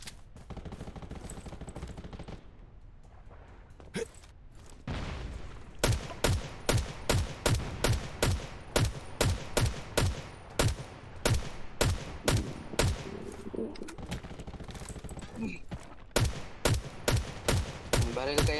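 Rapid bursts of gunfire in the online shooter game Attack on Radiation, sharp repeated shots in quick volleys that are loud and close, with short pauses between bursts.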